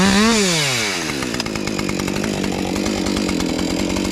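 A new chainsaw being broken in while felling a tree, the engine revving down at the start and then settling into a steady, loud, rasping idle-to-running drone close by.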